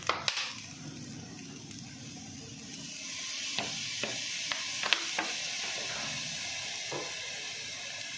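Spicy chicken fried rice with red chilli sauce and vinegar is stirred in a hot pan, a soft continuous sizzle broken by a few sharp scraping clicks of the spatula.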